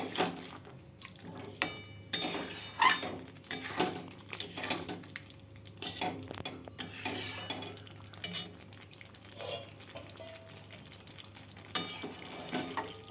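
Masala with cashew nuts cooks in a covered pan for paneer chicken, giving a steady low sizzle with repeated clinks and scrapes of a utensil against the pan and lid at close range.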